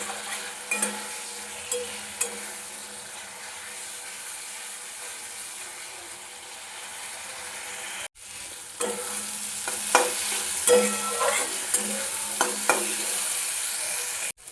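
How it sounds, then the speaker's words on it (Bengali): Masala spice paste for ghugni being stir-fried in a pan, a low sizzle under repeated spoon scrapes and clinks, quieter at first and then louder and busier after a short break, close by with no voices. "মশলাটা খুব ভালোভাবে কষাবো মশলাটা যতক্ষণ ধরে ভালোভাবে কষাবো তত টেস্টি হবে"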